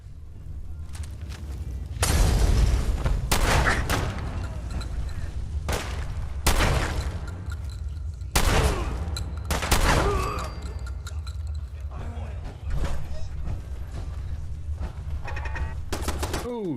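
Turret gunfire in Fallout 4's Far Harbor expansion, with repeated bursts of rapid automatic shots in clusters over a rumbling background, loud and close, with occasional spoken voices between volleys.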